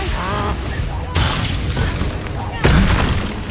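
A fire spell, Incendio, is cast in the video game Hogwarts Legacy: a loud whooshing burst of flame flares up twice, over game music and voices.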